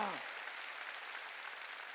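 Church congregation clapping during a worship service, a broad continuous patter of hands that follows a brief fading vocal sound at the start.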